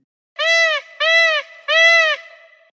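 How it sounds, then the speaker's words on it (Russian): A peacock gives three loud, nasal, wailing calls in quick succession, close and clear against silence, each trailing off briefly. "Павлин."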